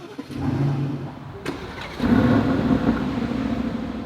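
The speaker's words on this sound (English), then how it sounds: "let's turn this baby on and see what this AMG sourced V8 in Aston tune" Aston Martin DB11 with an AMG-sourced V8 cranks and fires at about two seconds, jumping to a loud, rumbling idle that stays steady and close, with no voices.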